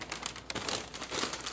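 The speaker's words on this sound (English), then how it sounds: "So pardon the sound of papers rustling." Paper crinkles and rustles close by as plates are wrapped for packing, a busy run of crumpling bursts with no talking.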